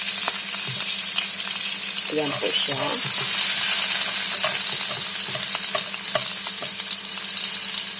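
Crushed ginger sizzling and frying in a pan as the base for salmon sinigang, a continuous close hiss with occasional stirring clinks while a person speaks briefly.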